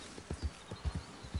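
Soft rhythmic horse hoofbeats clop along at a steady trot in the video game Red Dead Redemption 2, low and somewhat muffled, with no other sounds standing out.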